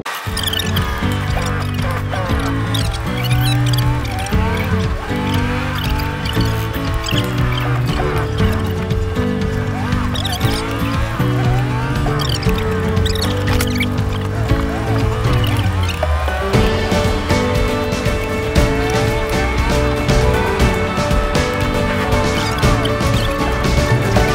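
A 2005 Volvo FH16 truck with a manual gearbox drives on after shifting into 12th gear, its loud engine drone rising and falling steadily, with a distinct change in pitch partway through.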